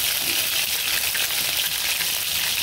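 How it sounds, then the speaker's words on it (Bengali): Garlic dropped into hot oil in a pan gives a loud, steady crackling sizzle, close and unbroken throughout, with no speech. "তেলটা গরম করে নিয়েছি, এর মধ্যে দিয়ে দিব আস্তে করে রসুন দিয়ে"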